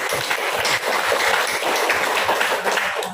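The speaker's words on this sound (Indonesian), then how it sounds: "Kita tepuk tangan." Applause from a gathered audience at a church recollection retreat in Agats, Papua, a dense, continuous wash of clapping lasting a few seconds without talk.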